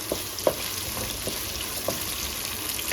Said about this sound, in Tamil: வெங்காயம் போட்டு நல்லா வந்து மிக்ஸ் பண்ணிக்கலாம்